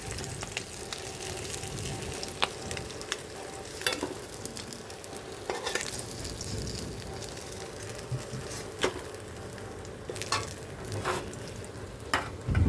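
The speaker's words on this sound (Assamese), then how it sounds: "আৰু মোৰ মাছখিনি ভজা হৈ গৈছে।" Fish frying in hot oil in an Assamese home kitchen sizzles steadily for the whole stretch, with occasional sharper crackles and stirring clinks, while rain falls outside. No one speaks.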